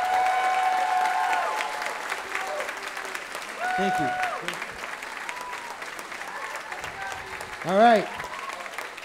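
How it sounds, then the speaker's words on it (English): An audience applauds grade 12 students at the Gleneagle Music Department year-end concert in 2022. The clapping is steady and fairly loud, while someone speaks briefly over it. "Round of applause"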